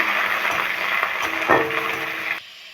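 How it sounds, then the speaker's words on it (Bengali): Bitter gourd pieces fry in oil with panch phoron, a loud close sizzle with stirring scrapes and a brief clatter before it cuts off near the end. "পাঁচফোড়নটা ভেজে নিয়েছি, আমি উচ্ছেগুলো দিয়ে দেবো। আমি ভালো করে ভেজে নেব।"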